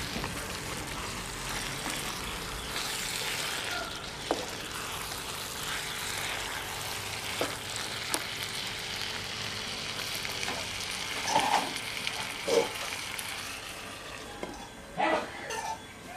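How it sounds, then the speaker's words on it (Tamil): Mushrooms cook under a lid in a pan for gravy, giving a steady soft sizzle and bubbling with a few faint clinks of a lid or utensil near the end. "காளான் சேர்த்து mix பண்ணினதுக்கு அப்புறமா மூடி வச்சு ஒரு 2 நிமிஷத்துல இருந்து 3 நிமிஷம் வரைக்கும் வேக"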